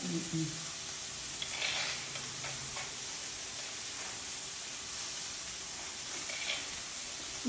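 Onions sautéing with salt in a pan give a steady, soft sizzle with occasional stirring ticks and scrapes, close and continuous throughout.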